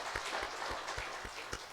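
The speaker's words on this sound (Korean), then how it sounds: "박수 한번 칩시다" Church congregation applauding, a faint room-filling patter of clapping with a few distinct nearby claps landing in a roughly regular beat.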